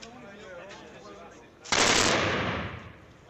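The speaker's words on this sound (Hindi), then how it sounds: "और उधर ओपनली सब मशीन गन चला रहे भाई।" A burst of machine-gun fire at a Pathan wedding in Pakistan, a loud sustained rattle that starts abruptly partway through and fades out, after a quieter stretch of background noise and voices.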